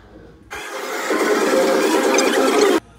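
Go-kart engine starting at an indoor family activity centre's race track, a sudden loud close mechanical roar that holds steady for about two seconds before cutting off abruptly.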